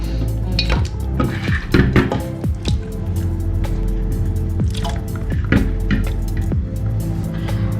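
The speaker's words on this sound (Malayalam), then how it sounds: "അപ്പോൾ ഈ കുക്കറിലേക്ക് ഞാൻ ഒത്തിരി വെള്ളം ഒഴിക്കുന്നുണ്ട്" Water goes into a pressure cooker holding country chicken for pepper chicken fry, with splashing, dripping and metallic clinks of the pot and utensils, loud and close, and no talking.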